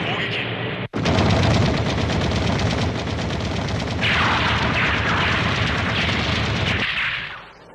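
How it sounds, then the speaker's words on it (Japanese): Anime artillery bombardment in a mecha battle scene: a sharp blast, then a dense, sustained roll of loud, rapid gunfire and booming shots, with a brighter hissing layer of fire joining midway before it cuts off. "第二次砲撃。"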